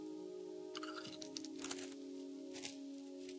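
Someone bites and chews dry Mary's cheddar crackers, producing a few faint, brittle crunches over a steady background hum.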